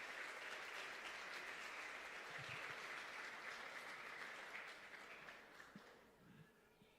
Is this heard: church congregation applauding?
yes